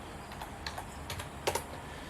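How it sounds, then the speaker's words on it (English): Short burst of typing on a computer keyboard entering YES at a Raspberry Pi 4 terminal prompt, a few light, close keystrokes spaced unevenly over about two seconds, faint and alone. "you can't just type Y, you've got to type YES or yes."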